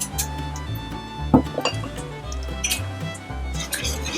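A Swedish meatball mixture for venison meatballs, with Dijon mustard just added, is stirred in a bowl: wet squishing and occasional light clinks of utensil on dish, close up, while a voice murmurs underneath.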